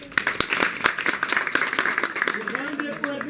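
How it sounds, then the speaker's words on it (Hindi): An audience at a Hindi general-knowledge quiz competition applauds with a dense patter of claps through the whole short stretch, while a host's voice keeps talking over it. "इनके लिए तालियां"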